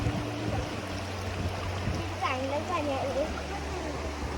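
Strong, forceful stream water rushes steadily through a reduced flow during a Ganesh festival outing in the Konkan countryside, near and continuous, with people talking and laughing over it.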